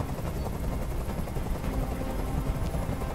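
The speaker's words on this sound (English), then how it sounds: "I can't stand that noise anymore. Tell that helicopter to get out of here." A steady, continuous helicopter rotor drone with a dense low rumble in the video game Detroit: Become Human, holding level throughout without speech.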